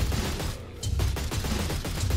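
Rapid gunfire in Oddworld: New 'n' Tasty, a steady stream of repeated shots in a fast rhythm with a brief dip near the start, loud and close with no voices.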